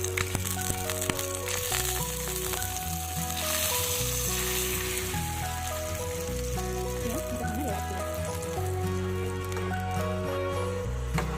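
Milk being stirred in a hot pan with ghee, a steady sizzle and bubbling hiss running continuously under tonal background music, with faint scraping as the spoon moves.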